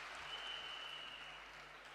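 Applause at a women's day summit on direct selling in Delhi, a steady wash of clapping from a large crowd, heard faint and distant throughout without a break.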